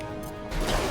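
An impact shot ability fires in Mass Effect 2, a short sharp crash-like burst that swells in loudness halfway through and rings out, with no talking.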